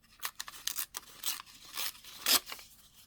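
Close scissors snip through a vintage book page in a quick series of crisp cuts and rustles, the paper crinkling between strokes, no voices.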